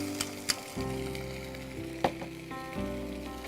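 Spices fry with green chili paste in a pan, a steady soft sizzle with a few sharp clicks of a utensil and faint tonal hum running underneath.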